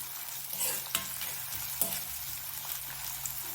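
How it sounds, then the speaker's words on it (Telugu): Onions fry in a pan with cumin until golden brown, giving a continuous sizzle broken by a few distinct scraping knocks as they are stirred. "చక్కగా ఈ ఆనియన్స్ గోల్డెన్ బ్రౌన్ వచ్చేంత వరకు వేపించుకుందాము"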